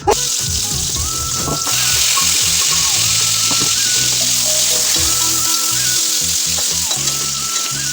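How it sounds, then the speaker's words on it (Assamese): Boiled potatoes frying in a little oil in a wok, with a loud, steady sizzle that runs throughout, near and alone, with a few soft stirring scrapes. "কেৰাহীটো বহুৱাই তাত অকণমান তেল দি দিছোঁ এয়া মই প্ৰথমতে আলুখিনি বইল কৰি লৈছোঁ"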